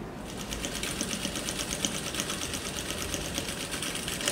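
A sewing machine stitches a patchwork Dresden plate sousplat, running steadily with a rapid, even mechanical chatter, close and continuous throughout with no talk.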